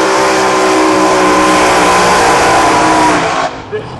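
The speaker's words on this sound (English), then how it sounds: "Here is the big blown funny car." A big blown funny car drag racer with large spill plates and a wickerbill roars past at a drag strip, a loud sustained engine blare that holds steady and then drops off sharply near the end.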